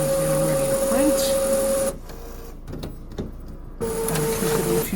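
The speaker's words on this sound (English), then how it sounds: "now we can see the machine's getting ready to print" A printer whirs and hums as it prepares to print a Chromaluxe sign, with a tonal motor drone that cuts out briefly mid-clip before resuming, nearby and moderately loud.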